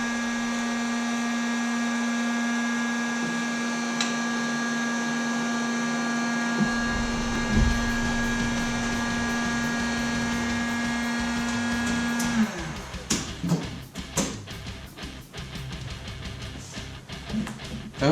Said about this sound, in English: I'll wait till that damn heat gun stops